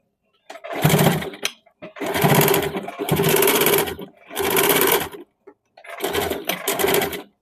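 Sewing machine stitching a blouse in four or five bursts of steady, close, fairly loud whirring, each lasting about a second, with short pauses between runs.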